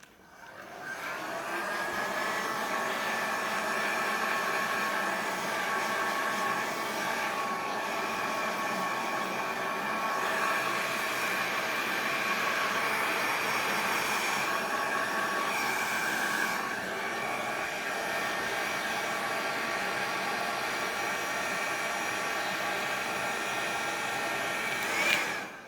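Hair dryer blowing steadily on a damp beard, drying it from root to tip, a loud continuous whirring rush at close range that holds for the whole stretch and cuts off at the end.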